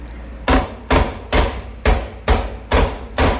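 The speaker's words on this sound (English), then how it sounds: "gotta knock this thing in a little bit with a hammer." Hammer blows knocking a fitting into place during a renovation of a 2008 single, seven sharp, evenly spaced strikes landing about every half second, close and loud with no talking.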